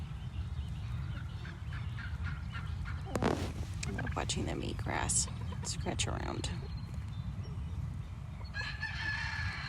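A heritage layer flock of chickens, including a Swedish flower hen, in a sunny poultry yard: a rooster crows loudly mid-clip amid scattered clucks and squawks, with a person talking throughout.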